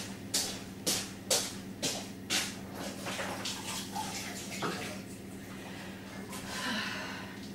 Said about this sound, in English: Right, I'm going to wash my hands.